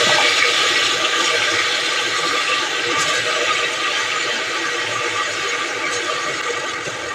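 Mushrooms frying in a pan with garlic paste for sambar, a steady bright sizzle that holds evenly throughout without any speech.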